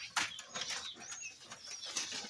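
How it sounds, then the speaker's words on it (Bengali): Wild pigeons in a pigeon house, with soft faint cooing and brief wing flapping against low background noise, no talk. "অনেকগুলা কবুতর হয়েছে, বন কবুতর।"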